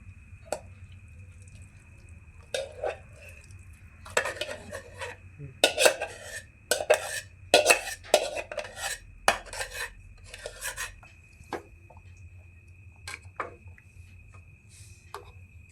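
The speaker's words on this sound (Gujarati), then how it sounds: "ખાંડ હવે પાકી ગઈ છે. હવે નાખી દઈશું સક્કરિયાનો સૂંદો." Mashed sweet potato stirred into cooked sugar syrup in a pan gives intermittent scraping and wet clinking strokes, clustered in a busy middle stretch and sparser before and after, fairly quiet with a steady low hum beneath.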